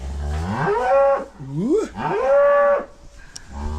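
A pregnant, aggressive cow on a small farm moos loudly and close, two long drawn-out calls with rising and falling pitch, a short pause between them, then a quieter start of another.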